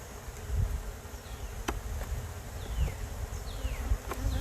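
Honey bees buzz continuously around an open hive, a dense close drone with individual bees passing near, steady and fairly loud, no voices.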